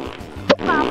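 A short, punchy fart sound effect from the Roblox eating game Fatties/Gluttons 2, one brief burst in the middle over continuous game audio and background noise.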